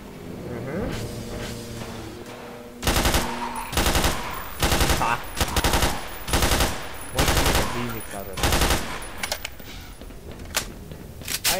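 Gunfire in Black Mesa, loud automatic bursts repeating in a rough rhythm, about seven volleys in a row, each a short rattling string of shots, with quieter game sound between.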